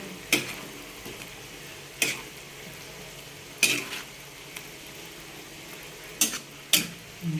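Vegetables sautéed with sardines and salt sizzle faintly in a pan while a spoon strikes and scrapes it about five times in sparse, sharp bursts, close up with no talking.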